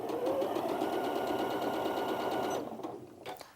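Janome Memory Craft 9480QCP sewing machine stitching, with a fast steady close mechanical whir for a few seconds, then slowing and stopping with a couple of soft clicks.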